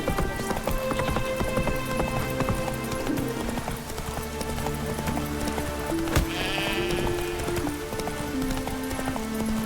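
Sheep bleat in the Witcher 3 Wild Hunt video game, a wavering call heard amid horse hooves clip-clopping steadily and busy background game sounds and music.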